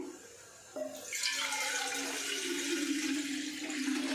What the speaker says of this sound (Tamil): இப்போ இந்த புட்டு குடத்தில் பார்த்தீங்கன்னா நம்ம தண்ணி ஊற்றணும்